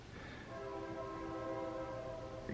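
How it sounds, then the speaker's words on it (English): A train rolls past, its horn blaring a sustained chord over a steady rumble of rail noise, loud and close with no talking. "Here comes the train."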